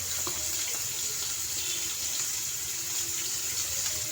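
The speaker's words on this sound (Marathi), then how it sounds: "थोडं पाणी टाकूया" A continuous, even rush of water pouring into a curry of kokum gravy, steady and fairly quiet throughout.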